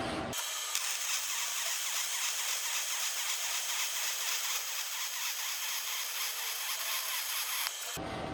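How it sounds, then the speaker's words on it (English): Arc welding on an outside corner of structural steel gives a continuous loud crackling hiss that starts abruptly, runs steadily for several seconds and cuts off at the end. "I'm going to weld this outside corner"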